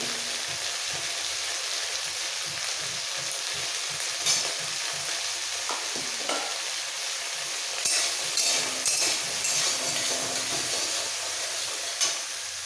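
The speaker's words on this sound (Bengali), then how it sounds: "ঢেঁড়সটা ভাজা হয়ে গেছে এবার তুলে নেবো খুব বেশি কড়া ভাজা" Steady oil sizzling from okra frying in a pan with a pinch of turmeric, with occasional sharp crackles and pops, close and continuous throughout.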